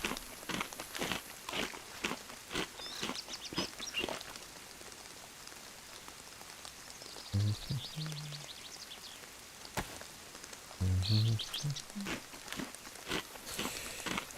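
Rain falls steadily in the survival video game DayZ on the Livonia map, a soft continuous patter with scattered louder drops, overlaid by faint footsteps and brief chewing sounds of eating.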